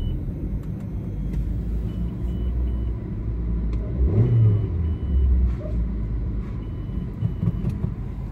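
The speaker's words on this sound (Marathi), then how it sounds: "गाडीमध्ये जास्तच आवाज येतो" A car engine runs with a loud, steady low rumble, noisier than it should be, and swells briefly in the middle as if revved.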